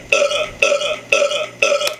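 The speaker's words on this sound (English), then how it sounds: "recorded myself burping" A recorded human burp plays back four times in an even, evenly spaced loop, each belch loud and close with a sharp onset and a droning tail.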